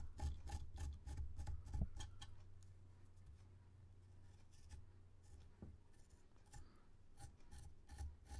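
A blade scrapes leather to pare it thinner, giving repeated close rasping strokes in an uneven rhythm, loud at first and then lighter, with no talk.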